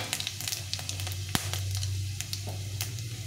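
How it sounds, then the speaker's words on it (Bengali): Dried red chillies tempering in hot oil, a soft crackling sizzle with scattered sharp pops over a low steady hum. "এখন আমি এখানে নিই শুকনো লঙ্কার 5 ফোড়ন, এটা ফোড়নে দিয়ে দেব"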